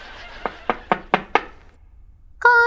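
Knuckles rap on a house door five times in a quick, even sequence, close and sharp, followed by a brief bright electronic tone.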